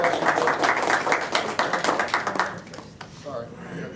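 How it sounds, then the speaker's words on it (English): Audience clapping at a board of education meeting, a dense round of hand claps that fades out toward the end. "Sorry, I got 2 rounds of clapping"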